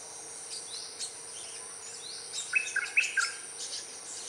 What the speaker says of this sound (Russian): такая, мухоловка какая-то.